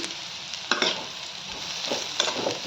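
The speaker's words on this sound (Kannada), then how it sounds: "ಒಂದು ಸ್ವಲ್ಪ ಇದ್ರಾಗೆ ಜೀರಿಗೆ ಹಾಕೋರಿ." Cumin seeds crackle and sizzle in hot oil in a pan while bitter gourd palya is cooked, a close, steady frying hiss broken by a few stirring scrapes.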